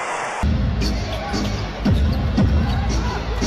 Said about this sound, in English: Klay Thompson gets his first bucket of the night, much to the delight of the home crowd